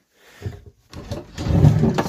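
A wooden drawer in a shuttle bus camper slides open with a short scrape, a pause, then a longer louder rumbling slide, heard close up without speech.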